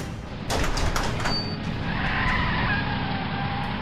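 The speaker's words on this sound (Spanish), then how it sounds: "El coche de policía sale a toda velocidad del garaje." A police car in a cartoon speeds out of a garage with a short tire screech, then a steady engine roar that holds close and loud to the end. No one speaks.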